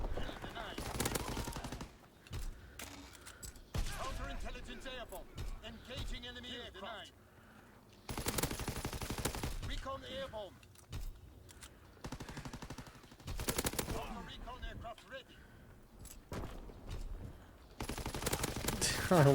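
Machine-gun fire in a Call of Duty match, a weapon combining the MG15 and Lewis guns: sustained bursts of rapid automatic shots come in several long volleys separated by short pauses, loud and close, with a voice talking in between.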